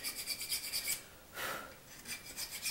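A small hand file rasps across wood in quick repeated strokes, with a pause and a longer single pass before the steady back-and-forth resumes, close and fairly quiet, with no talking.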